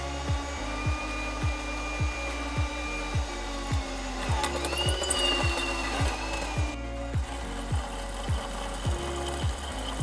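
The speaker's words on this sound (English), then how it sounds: "Whenever you drill stainless, you want to use a low speed and about as much pressure as you can." Stainless steel being drilled at low speed during fabrication of a stainless jacketed 90, a steady motor drone with a regular pulsing rhythm about twice a second, close and continuous, with a brief higher whine midway.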